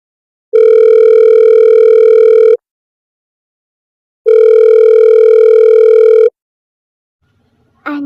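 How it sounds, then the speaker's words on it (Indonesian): A phone call ringing tone plays in the Sakura School Simulator video game: two loud, steady electronic rings of about two seconds each, separated by a gap of silence, with a brief clipped sound at the very end. "Coba telepon dulu deh."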